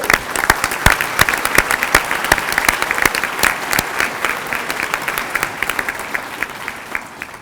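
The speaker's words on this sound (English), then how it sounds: "Another round of applause for them, please," A crowd claps for honorees at an excellence celebration, a loud, steady round of applause with sharp individual claps standing out, sustained throughout.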